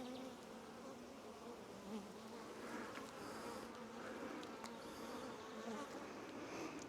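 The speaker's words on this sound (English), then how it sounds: "There's a brand new baby bee." Honeybees buzz in a continuous, dense drone inside a hive as a newly emerged bee climbs out of its cell, close and steady throughout, with no talk.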